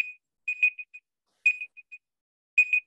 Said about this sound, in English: I was wondering what was beeping at me.